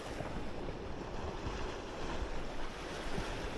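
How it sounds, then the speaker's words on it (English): Ocean waves wash continuously against the shore at a fishing spot in Jamaica, with steady surf roar and gusty wind buffeting the microphone. "Nah, just waves. Just waves."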